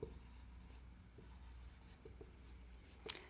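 Chalk scratching across a classroom board as a chemistry reaction is written out, a faint steady scraping with a few sharper taps and one brief louder stroke near the end, no talking.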